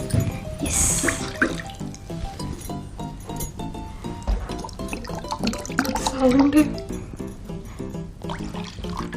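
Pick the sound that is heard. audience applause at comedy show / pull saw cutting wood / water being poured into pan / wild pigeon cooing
water being poured into pan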